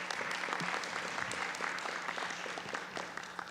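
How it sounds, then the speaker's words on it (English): Sustained applause from an audience at a county school board meeting, a dense steady wash of many hands clapping that holds at an even level throughout, with no voices standing out. "Let's give her one more round of applause."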